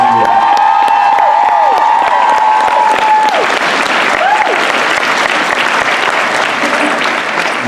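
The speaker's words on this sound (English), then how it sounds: "Can we just give a little round of applause?" Audience applause at a Vancouver fan convention, dense clapping filling the room with some cheering at the start, loud and sustained throughout.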